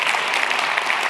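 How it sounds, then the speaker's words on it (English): Audience applause fills the whole moment at a security conference talk, a dense, steady wash of many hands clapping with no voices over it. "Give him a random applause, because he helped a lot."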